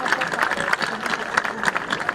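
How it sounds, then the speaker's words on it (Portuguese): An audience at a Santo António folklore festival in Estarreja gives a round of applause, moderately loud, scattered clapping that carries on steadily with a little crowd murmur. "mais uma salva de palmas"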